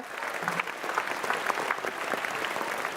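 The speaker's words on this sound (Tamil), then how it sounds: "ஸோ நல்ல கைத்தட்டில் அவங்களுக்கு கண்டிப்பாக கொடுத்தே ஆகணும் இந்த இடத்துல." A seated audience at a Tamil film awards show applauds the jury members with steady, moderately dense clapping, individual claps audible within an even roar.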